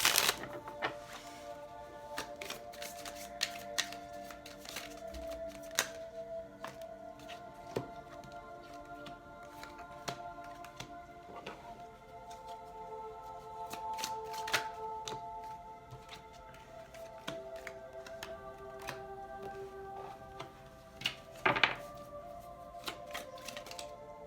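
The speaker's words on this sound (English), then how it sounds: "One more shuffle and we'll be good to go." Tarot cards riffle and snap in repeated quiet bursts, soft papery shuffles with sharp ticks scattered through, close and faint with no voices.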